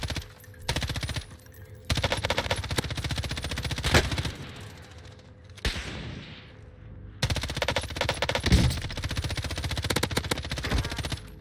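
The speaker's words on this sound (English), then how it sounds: "I'm just randomly shooting" Automatic gunfire from Call of Duty Warzone rattles in long, dense bursts, broken by brief pauses and one quieter gap before the firing resumes at full loudness.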